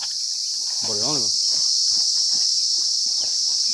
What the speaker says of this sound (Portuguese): Mas isso aqui é grilo